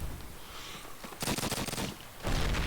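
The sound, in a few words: grenade explosions in video game Call of Duty: United Offensive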